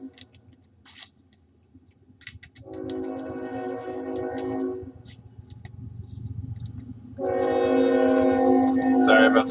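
A passing train sounds its horn in two long, loud blasts, the second louder and nearer, over a steady low rumble of rolling railcars.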